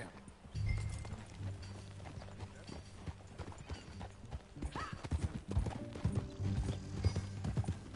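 Horse hooves clip-clop steadily at a walking pace in the video game Red Dead Redemption 2 on a ranch, fairly faint, with soft mechanical tack sounds and a low background hum.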